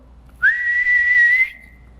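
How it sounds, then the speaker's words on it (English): A single sharp whistle blast starts a field day race between classes: a steady, shrill tone that holds for about a second, loud and close, with nothing else around it. "There was a sharp blast of a whistle"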